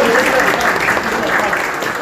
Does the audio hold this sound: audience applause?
yes